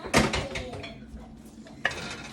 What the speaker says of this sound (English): we're gonna dump that basil in there, and it gets stirred around